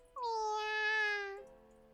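A video game kitten gives a single clear, high meow lasting over a second that slides down slightly at the end, close and loud against near silence.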